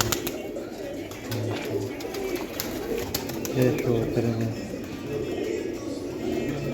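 Golden pigeons with spotted markings coo softly at close range, low throaty calls repeating under someone talking.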